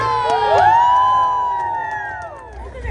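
A crowd at the Disneyland Half Marathon cheers and whoops loudly and steadily, with rising shouted voices over a busy roar that dips slightly before swelling again.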